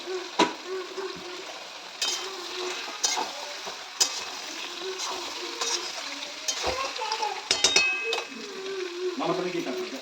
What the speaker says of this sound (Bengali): এবার আমি এর মধ্যে সিদ্ধ মটনটা দিয়ে দেবো।